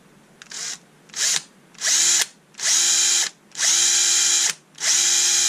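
A power drill fitted with an 8mm bit bores into the plastic casing of a Dewalt 3.6v cordless screwdriver, running in six short bursts that grow longer, each a loud high whine separated by brief pauses.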